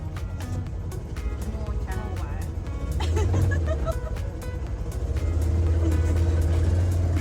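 A vehicle engine idles and then rumbles a little louder after being put in gear, a steady low drone heard from inside while people talk over it.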